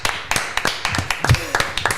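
A few people clap in a small room on a French talk show, sparse irregular claps close to the microphone, with some voices mixed in.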